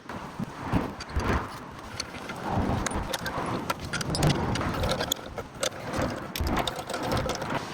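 A wheel goes back onto a BMW M3 after brake cooling work, with irregular metallic clanks, jangles and ratcheting of bolts being run in, close by with no talk.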